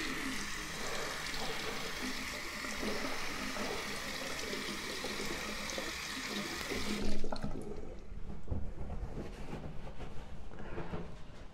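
Water from a tap runs steadily over a watch band for several seconds, then the flow stops with a soft knock and faint handling noises follow; no one speaks.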